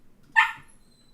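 A dog lets out a single sharp bark, a short loud yelp with a whiny edge, alone against quiet background.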